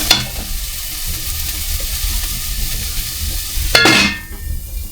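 Meat fries and sizzles in an open pot, a steady loud crackling hiss with scraping stirs throughout and a sharper clatter near the end, with no voices.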